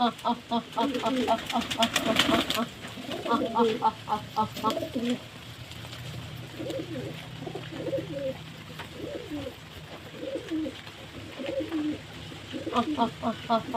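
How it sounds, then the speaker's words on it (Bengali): Pigeons coo repeatedly in soft, throaty bursts close by while eating, with a rustle of wings or pecking and some muffled background talk. "দেখুন পায়রাগুলো কত সুন্দর আনন্দের সঙ্গে খাচ্ছে"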